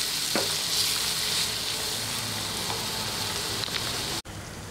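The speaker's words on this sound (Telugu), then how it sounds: "మంచిగా మసాలా ముద్దను కూడా వేయించాలి." Masala paste for a fish curry frying in a pan, a steady, close hiss of sizzling oil with light stirring scrapes, continuous throughout before cutting off abruptly near the end.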